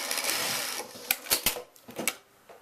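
A PFAFF 561 industrial sewing machine whirs briefly in a close, continuous run of rapid stitching, then drops to a few separate mechanical clicks and knocks, with no one talking.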